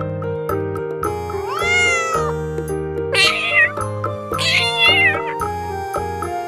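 A cat meows a few times, drawn-out wavering cries heard over the bright, bouncy musical backing of a children's alphabet phonics song.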